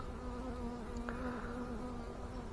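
Honey bees buzzing around a beehive during swarm season, a dense continuous drone of many insects with a steady hum, one or two passing bees briefly louder, no voices.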